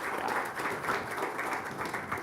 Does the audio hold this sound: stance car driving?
no